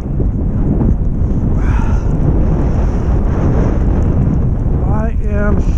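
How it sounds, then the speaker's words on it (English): Cold wind roars across a microphone at the shoreline, a steady loud buffeting rush with surf beneath and a brief voice or call partway through. "The wind is freezing cold."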